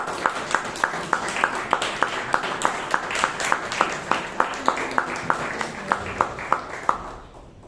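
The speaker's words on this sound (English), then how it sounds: "With a big round of applause, please." Audience applause at a Bangalore Toastmasters meeting welcoming a speaker, with a regular, evenly spaced clapping pulse standing out over a steady crowd wash, fading at the end.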